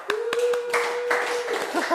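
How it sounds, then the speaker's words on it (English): A few distinct hand claps at a seminar gathering, sharp and separate at first and then joined by thin clapping, with a sustained tone and voices murmuring underneath. "Let's give him a little clap."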